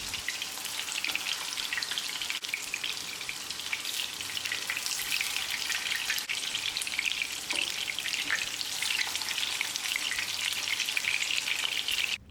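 Prawn vadas (eral vada) frying in oil on a low flame, a steady close crackling sizzle that runs evenly throughout with no talking.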